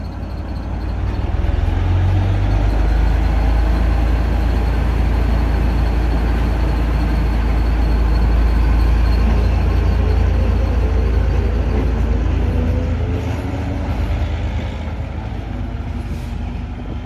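Czech M262 nose-suspended diesel-electric railcar pulling away toward a siding, a loud, steady low rumble with a rising whine that holds for the whole stretch before easing slightly near the end.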